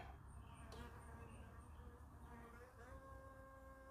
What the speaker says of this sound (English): you guys hear that bee that's circling around me right now?